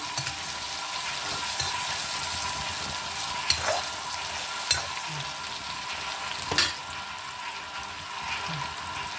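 Vangi bath mixture bubbling and cooking down in a pan, a steady close sizzle and simmer with a few soft clinks of a spoon.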